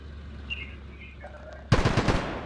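Machine gun fire in a Corsican Insurgency combat game erupts suddenly as a loud, close, rapid burst of shots after a quieter stretch of faint background ambience.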